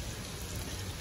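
Diced onions go into two sticks of melted butter cooking on a Big Green Egg grill, giving a steady, even crackling sizzle, dense and fairly soft, with no voices.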